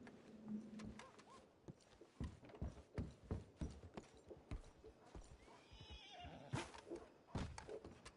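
A horse in Red Dead Redemption 2 neighs briefly at the start, then its hooves clop in an uneven series of close, sharp thuds, with a second whinny midway through, all fairly quiet.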